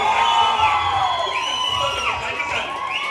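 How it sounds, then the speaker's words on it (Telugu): Audience at a dance school's anniversary celebration cheering and whooping loudly, a dense crowd roar with shouting children, sustained throughout; clapping is not clearly distinct within the cheering. "ప్లీజ్ ఒకసారి గట్టిగా క్లాప్ చేయండి ప్లీజ్."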